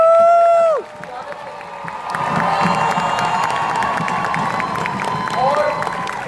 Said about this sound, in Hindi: एक बार जोरदार तालियां बजाकर अपने